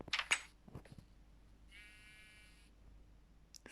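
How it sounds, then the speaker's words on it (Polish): A Minecraft sheep bleats once, a sustained wavering call in the middle, framed by a few short clicks and knocks before and after. "znowu słyszę owce"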